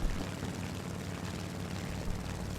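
German He 112 V-5 propeller fighter in flight in the War Thunder combat game, a continuous droning engine hum with a steady level and no talk over it.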